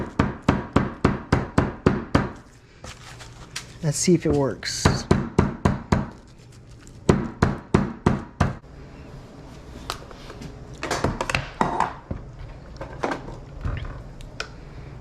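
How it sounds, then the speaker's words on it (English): A hammer bangs on fennel seeds in a kitchen, with bursts of rapid, evenly spaced thuds separated by pauses, close and loud. A person speaks briefly between the bursts. "we brought a hammer in the kitchen, guys, so we're gonna bang these up"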